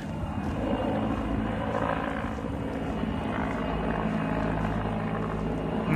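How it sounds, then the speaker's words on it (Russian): A helicopter flies overhead near an outdoor lot of confiscated cars in Minsk, giving a steady loud rotor and engine drone that holds throughout without speech. "Вон еще вертик летит."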